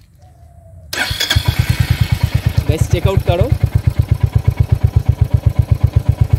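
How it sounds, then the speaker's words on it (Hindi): A Royal Enfield Hunter 350 motorcycle engine starts abruptly and settles into a loud, close, evenly pulsing thump at idle, with someone talking over the rumble. "एंड बाइक को अभी स्टार्ट कर लेता हूँ एक बार"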